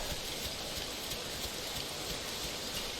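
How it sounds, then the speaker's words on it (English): Steady rain falls in the video game Legacy Isle, a dense, even hiss of drops that runs unbroken and alone for the whole stretch, with no voices over it. "At least there's rain."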